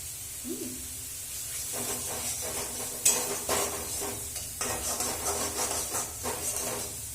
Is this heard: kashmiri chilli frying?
yes